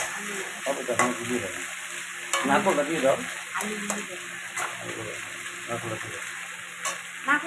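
Taro stems, cut from elephant foot yam and taro stalks, sautéing in hot oil in a pan at home while being stirred. Steady close sizzle with scraping stirs and faint background talk.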